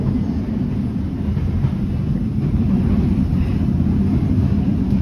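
Steady low rumble and rattle of an LRT light rail train running along the tracks, continuous and close, heard from inside with no talking.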